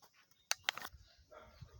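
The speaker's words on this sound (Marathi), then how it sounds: "तिथेच एक कुत्रा आहे" A dog outside a village house gives a few quick, faint yips and barks, then soft shuffling sounds follow.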